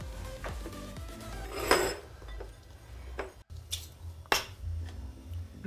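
Cooked cassava being plated, with clinks and knocks of dishes and utensils scattered throughout, several sharp strikes standing out over a low background.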